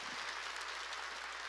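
Congregation clapping at a Sunday church worship service, a steady dense wash of many hands at a low, distant level, with no voice over it.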